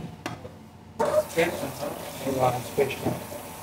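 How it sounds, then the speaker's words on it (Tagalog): Raw lamb meat is rinsed under a running kitchen tap, giving a close, uneven splashing and trickling that starts abruptly after a short quiet lead-in and surges several times as the pieces are handled. "hugasan na muna natin siya para mawala yung kanyang amoy"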